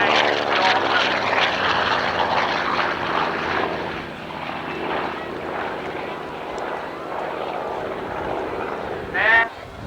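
Propeller-driven aircraft flying past at an airshow with its bomb and torpedo bay doors open, a loud droning engine with a falling pitch sweep as it passes, then fading, while a commentator talks over it.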